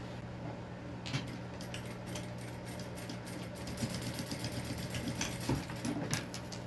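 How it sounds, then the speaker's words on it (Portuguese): Sewing machine stitching along a marked line on a small trapezoid fabric coin purse, a fast continuous mechanical whir with light clicks, close and fairly quiet with no talking. "E eu vou costurar agora bem em cima onde eu risquei."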